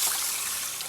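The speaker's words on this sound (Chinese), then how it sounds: "加水。" Water pours in a short steady trickle into a pot of blanched pork with cooking wine, peppercorns and rice, for braising, with no voices.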